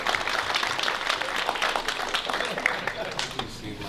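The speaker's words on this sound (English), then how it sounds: "Big round of applause for Chase, please." A room of guests applauds at a karting raceway champions' banquet, steady moderate clapping that carries on while voices talk over it.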